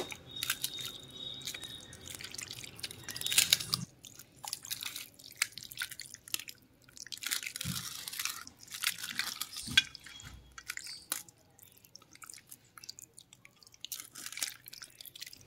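Chicken pieces get mixed by hand with oil and homemade chilli powder, making quiet, irregular wet squelches and soft slaps close by, with no talking.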